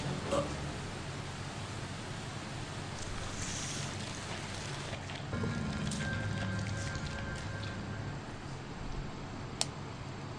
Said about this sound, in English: I hate the rain too.